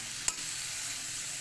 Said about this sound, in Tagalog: Yan, igisa